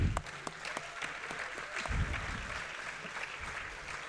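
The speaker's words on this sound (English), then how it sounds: "we want to give them a round of applause if we could do" Audience applauding coaches at a student-athlete awards ceremony, moderate steady clapping with a few heavier thumps near the start and middle, fairly distant and even.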